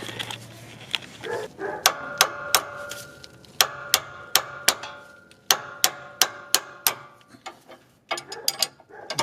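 A wrench loosening a sway bar end link nut on a 2012–2016 Honda CR-V, giving a rapid series of sharp metallic ratcheting clicks in bursts, loud and close, with a brief pause near the end and no talking.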